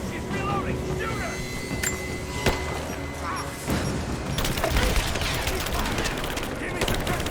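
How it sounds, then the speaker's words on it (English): Rapid gunfire in Rise of the Tomb Raider, bursts of sharp shots and a thicker volley in the second half, mixed with game noise and shouting voices throughout. "Give me suppressive fire! Now! We're getting torn apart! I'm taking fire!"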